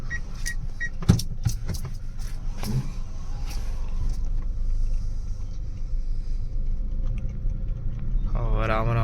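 A Kia Sonet rolls slowly toward a petrol pump, its low engine hum steady beneath a few sharp clicks and rattles, with a person talking over it.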